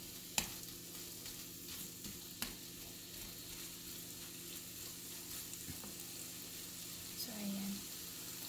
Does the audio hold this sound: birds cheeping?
no